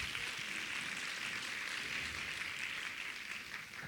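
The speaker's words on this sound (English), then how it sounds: "so let's give them a round of applause" Applause from an audience at a Teach Arkansas lecture series event honors the educational partners. It is a faint, steady wash of clapping that holds evenly for a few seconds with no voices over it.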